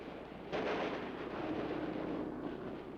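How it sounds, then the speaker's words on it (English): Soviet anti-aircraft gunfire in a WWII newsreel: a dull, muffled burst of firing rumbles in over a low hiss and continues as a rough, distant roar on old recording. "here is evidence of their great skill in anti-aircraft fire"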